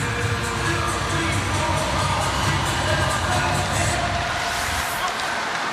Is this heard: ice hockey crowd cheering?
yes